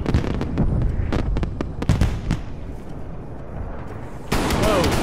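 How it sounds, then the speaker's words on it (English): Heavy gunship fire in the Call of Duty Black Ops Cold War game, with a rapid burst of loud booming impacts and crackling explosions. Afterward there is quieter rumble, then a sudden wash of loud noise. A voice talks over parts of it. "Got a fucking gunship, bro."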